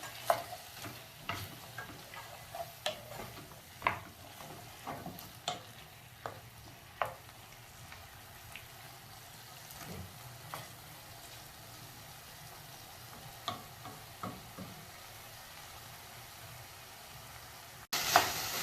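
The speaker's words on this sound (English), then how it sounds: "You continue frying after putting garlic for some minutes." Steady frying hiss of garlic in a pan, punctuated by repeated sharp clinks and scrapes of stirring, close and moderately quiet, with no talking.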